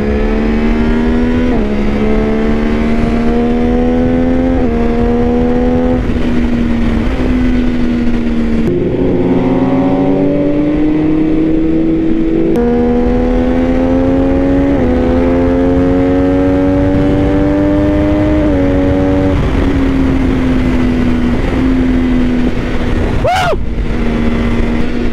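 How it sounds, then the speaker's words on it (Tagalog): An MV Agusta F3 motorcycle engine revs hard while riding, loud and close, rising through the gears in repeated climbing pulls with brief dips at each shift, steady wind roar underneath. "Galit na naman ang makina natin."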